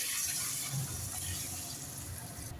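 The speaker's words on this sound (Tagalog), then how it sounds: "Lalagay tayo ng konting tubig." Water poured into a cooking pan of sautéed garlic, onion and tomato for ginisang ampalaya, a continuous splashing pour, close and fairly quiet, with no talk.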